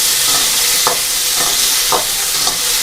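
Chillies sizzle steadily in hot oil in a pan, a dense, close hiss with a few brief stirring scrapes.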